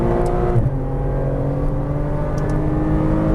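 Porsche Cayman R engine driven hard on a racing track, a loud steady drone with a brief break near half a second as it shifts up, then pulling strongly again with no talk over it.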